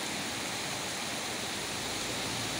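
Heavy rain in a street in Samambaia Sul, Federal District, with water running along the curb, heard as a dense, steady rushing hiss with no talk.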